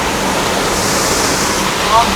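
A large waterfall at a mountain pass crossing roars loudly and steadily nearby, a dense wash of rushing water that fills the whole moment without pause.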